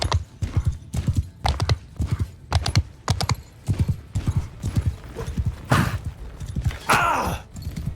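Horse hooves pounding in a steady galloping rhythm while riding in Mount and Blade II Bannerlord, loud and close, with a couple of whooshing impact noises near the end.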